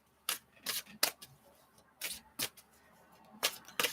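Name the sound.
shuffling a psychic tarot card deck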